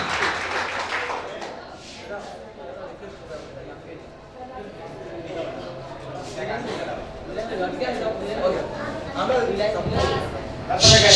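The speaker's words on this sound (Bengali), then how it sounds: "বিভাগের শিক্ষক স্বপন স্যারকে করতালির মাধ্যমে গ্রহণ করার জন্য আহ্বান জানাচ্ছি।" Audience applause welcoming a teacher at a college rag day event, a steady broadband patter running the whole time with voices talking over it and a louder swell near the end.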